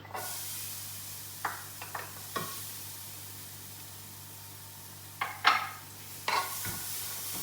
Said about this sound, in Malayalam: പാനൊന്ന് ചൂടായിട്ടുണ്ട് ഇനി നമുക്ക് ഇഞ്ചി ഇട്ട് കൊടുക്കാം